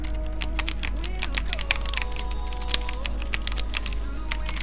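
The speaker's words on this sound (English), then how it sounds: "This keyboard has Atami blue switches which are super clicky and tactile." A budget $20 mechanical keyboard with an aluminum body and clicky, tactile blue switches being typed on, producing a rapid, irregular run of sharp, close clicks over a faint steady hum.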